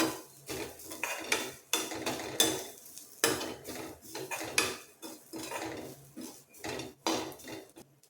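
Grated coconut being dry-roasted in a pan and stirred steadily with a metal spoon, giving repeated close scraping and clinking strokes in an irregular rhythm, with no voices.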